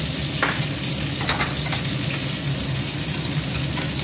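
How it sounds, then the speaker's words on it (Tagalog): Garlic frying in hot oil for Taiwanese-style pork adobo, a steady close sizzle with a few brief stir scrapes, no talking. "Ipisa na po natin ang bawang."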